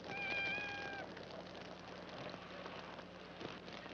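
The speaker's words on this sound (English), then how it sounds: "We've only got a cat." A cat gives a single drawn-out meow near the start, a clear rising-and-falling cry over steady rain-like background noise, followed by quieter ambient sound.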